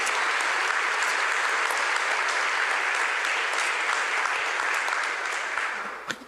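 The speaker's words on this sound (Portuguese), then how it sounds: "Vamos aplaudir o Senhor mais uma vez." A church congregation applauds in sustained, dense clapping that holds steady, then tapers off near the end.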